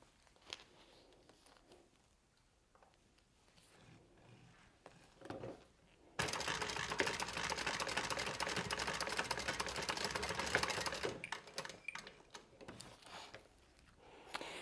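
A sewing machine stitches fabric for a small holiday project: quiet handling and rustling first, then a steady, fairly loud mechanical whirr of rapid stitching for about four seconds before stopping, followed by soft clicks.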